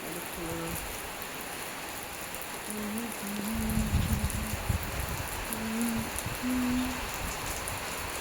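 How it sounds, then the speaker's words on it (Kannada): Heavy rain hisses steadily across a village, with faint tonal sounds and some louder low rumbling partway through. "ಮಳೆ ಎಷ್ಟು ಸಖತ್ತಾಗಿ ಬರ್ತಾಯಿದೆ ಫುಲ್ಲೂ"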